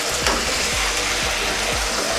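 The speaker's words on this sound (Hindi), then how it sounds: "अदरक लहसुन का पेस्ट अब इसमें अच्छे से फ्राई हो चुका है।" Steady broadband sizzle of ginger garlic paste frying in a kadai, with a few soft stirring knocks underneath, close and continuous.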